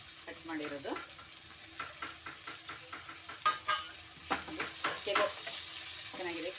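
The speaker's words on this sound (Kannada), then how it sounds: "ಚೆನ್ನಾಗಿ ಫ್ರೈ ಮಾಡ್ಕೊಳ್ಳೋಣ" Mutton sukka with a chopped medium tomato fries in a pan, a low sizzle broken by repeated scraping stirs of a spoon against the metal, some sharp and close.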